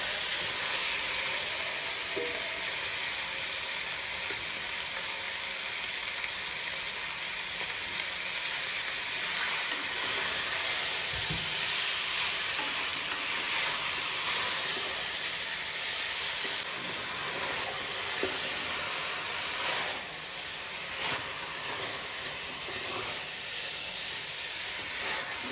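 Marinated chicken cooking with browned onions and mint for a quick chicken biryani, giving a steady, loud broadband hiss and sizzle that runs unbroken throughout, with faint occasional clinks.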